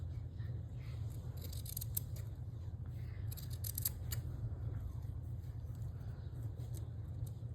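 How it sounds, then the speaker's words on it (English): Sharp scissors snip teeth out of a zipper while sewing a zip guard, several quick crisp clicks in short bursts over a low steady hum. "we're going to cut these teeth out of the zipper"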